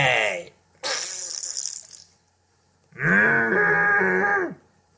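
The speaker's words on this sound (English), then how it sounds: "Why the hell are you farting" Flatulence in a cartoon episode, heard as a pair of long, loud, tonal blasts separated by a brief pause, the second one buzzing and sustained, with no talk over them.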